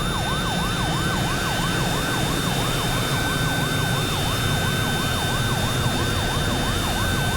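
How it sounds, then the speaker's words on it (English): Simulated tinnitus evoking an air conditioner, a jumbo jet taking off, a fire alarm and a siren all at once: a loud, constant roar with a wailing, rapidly cycling siren tone and steady high whines, no voices. "best described like an air conditioning unit, plane taking off at the airport, a jumbo jet takes off the ground, fire alarm going off in my head, siren,"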